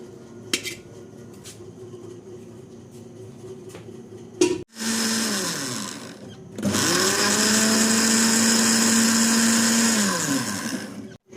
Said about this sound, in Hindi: अब इसको आपने ग्राइंड कर लेना है। ग्राइंड करने के बाद इसका पेस्ट बन जाएगा।